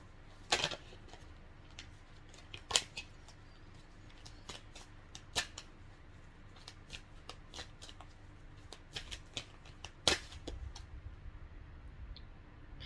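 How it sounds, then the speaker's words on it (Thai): Tarot cards are shuffled and drawn in a quiet room, making soft riffling and scattered crisp snaps and flicks. A few sharper slaps stand out, with no speech. "ทีนี้มาดู ไพ่คำแนะนำจากพระพิคเนตให้กับ ชาว ธาตุน้ำ"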